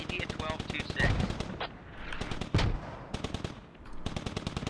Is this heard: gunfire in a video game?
yes